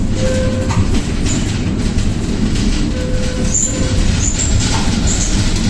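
A Konstal 105Na tram rolls along broad-gauge 1524 mm rails in Ukraine with a steady loud rumble, wheels clacking over joints and faint high squeals from the track.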